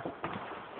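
Hooves of a horse carrying a small child clip-clop in a short, close burst of a few soft thuds, with no talking.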